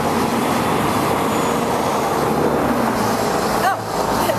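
A brand new light rail train at Jerusalem Central Bus Station, heard as a steady, loud rumble of rail traffic with a brief high squeal near the end, over busy street noise.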